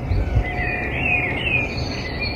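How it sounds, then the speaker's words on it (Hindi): Birds chirp in thin, high twittering calls over a steady low background hum, with insect-like trilling mixed in throughout. "और आप सुन रहे हो चिड़िया की आवाज़?"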